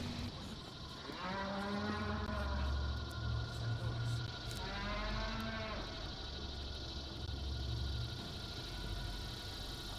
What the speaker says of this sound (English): Who let the cows out?